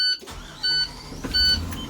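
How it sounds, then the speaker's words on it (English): A bus engine turns over and settles into a low rumble during a pre-trip inspection, with sharp electronic warning beeps sounding twice above it. "Now I'm going to start the engine."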